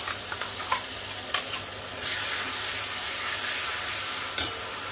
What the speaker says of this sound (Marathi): आता हे मसाले आपल्याला तेलावरती थोडा वेळ परतून घ्यायचे।